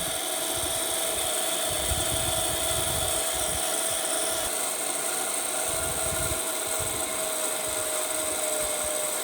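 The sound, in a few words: electric motor slowing down as voltage is reduced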